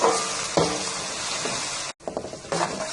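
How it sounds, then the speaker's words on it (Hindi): Garlic-ginger paste frying in a pan for restaurant-style dal makhani, a steady close sizzle with stirring scrapes and a brief break near the end. "अब हमने इसमें लहसुन अदरक डाल दिए। हल्का सा इसको भी फ्राई कर लेते हैं।"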